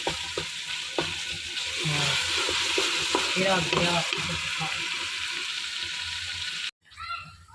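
Tomatoes and onions softening in a hot pan while being stirred, a steady sizzle with scraping and clinking of a spoon, plus a brief burst of running water near the end.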